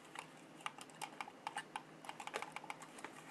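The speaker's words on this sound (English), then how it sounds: "It's a really nice feel and clicky sound to it." Original IBM PS2 mouse being clicked: a faint, close run of quick, irregular plastic clicks with no talking.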